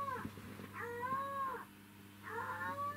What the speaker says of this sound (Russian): Не пойму, что такое кошка кричит.